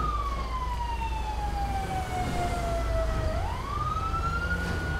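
A police car siren in the video game Grand Theft Auto V (LSPDFR mod) wails, dipping slowly in pitch, then swooping back up, loud and continuous over a low engine rumble.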